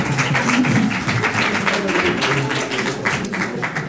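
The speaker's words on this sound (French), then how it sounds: "on applaudit Maurice." Applause from a research colloquium audience fills the room at a steady, dense level, with a voice briefly audible beneath the clapping.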